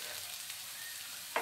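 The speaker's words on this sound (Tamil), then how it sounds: "பட்டாணி ஆட் பண்ணி கொஞ்சம் நல்லா வதக்கிடுவோம்." Beans and peas sauté in a pan with ginger-garlic paste and green chillies for vegetable pasta, giving a steady, close sizzle throughout. A brief clatter is heard at the end.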